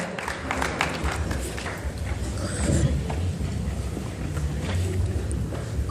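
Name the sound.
audience applause for speaker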